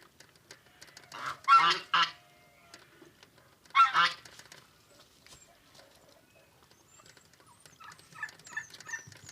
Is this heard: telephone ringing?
no